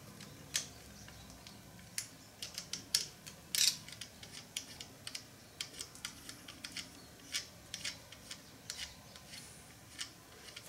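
A lock nut being threaded back onto the clutch adjusting screw of a stock dry clutch on a vintage Harley-Davidson Flathead, Knucklehead, Panhead or Shovelhead, heard as quiet, close, irregular metallic ticks and small clicks.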